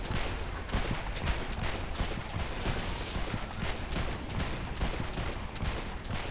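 Relentless automatic gunfire from Saints Row IV, dense rapid bursts of shots pounding without pause, loud and close.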